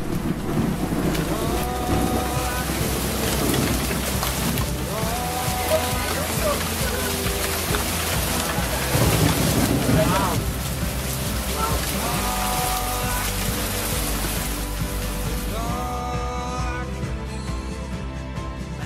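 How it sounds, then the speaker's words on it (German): Thunderstorm rain with the first hail falling in Galicia along the Camino Primitivo pilgrim route, a steady dense wash of rain throughout, with voices and other activity mixed in beneath it. "währenddessen ich hier sitze, zieht ein Gewitter durch Galizien"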